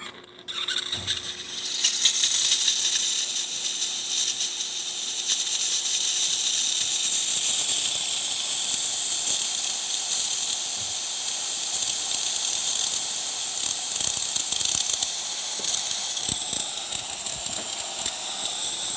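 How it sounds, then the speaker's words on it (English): DeLonghi espresso machine steam wand hissing steadily for nearly twenty seconds, a loud, continuous bright rush of steam with faint sputters and pops, after a brief quieter start as pressure builds. "And now for the steam. Which is gonna take a little bit for the machine to get some pressure, and then we're just gonna let it run"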